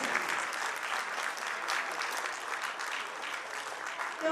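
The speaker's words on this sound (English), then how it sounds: "तालियों की आवाज गूंजनी चाहिए," Dense, sustained clapping from a large audience at a school annual function, steady and loud throughout with no break.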